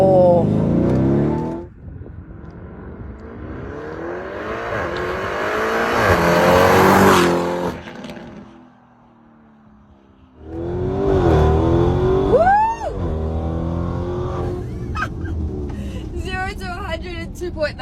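Mansory Venatus coupe based on the Lamborghini Urus, pumped to 900 horsepower, accelerating hard on a road with a rising engine roar and a gear-shift break, loud and close, then climbing again.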